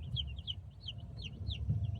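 Young Bresse chicks peeping and clucking in quick, high chirps, several birds close by, over a low rumbling background like a moving vehicle.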